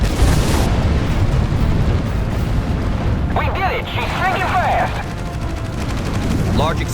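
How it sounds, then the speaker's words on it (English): A large explosion booms amid gunfire in the naval combat game Battlestations Pacific, a loud, dense roar with rattling shots, while radio-style voices speak partway through. "Large explosion, sir."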